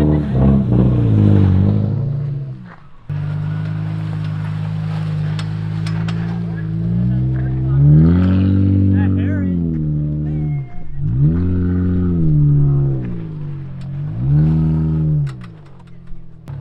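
An off-road vehicle engine on the City Creek trail revs steadily and close, its pitch rising and falling through repeated throttle surges, with people talking over it at the start.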